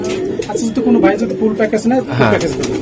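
Racing pigeons coo in a loft, their low, soft, repeated coos close and overlapping, with someone talking over them throughout.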